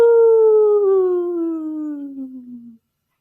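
A single voice imitates howling wind with one long, drawn-out "ooh" that slides gradually downward in pitch and fades after nearly three seconds.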